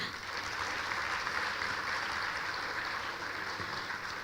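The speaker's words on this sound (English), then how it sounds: "just give a huge round of applause for yourself" Students at a B.Tech orientation program give a steady, dense round of applause that fills the hall at an even level from start to finish, with no voices on top.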